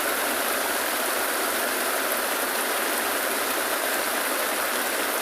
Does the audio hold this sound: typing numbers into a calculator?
no